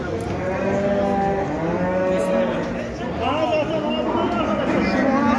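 Cattle, including barren cows, moo repeatedly in long, drawn-out calls amid a busy crowd murmuring in the background at the Şarkışla livestock market.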